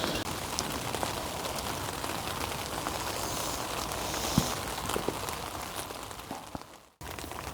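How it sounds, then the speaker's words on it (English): Steady rain patters on surfaces around a campsite by a well house at night, a dense, even hiss with occasional louder drops, briefly cut out near the end. "So we just sat here waiting for the rain to die down."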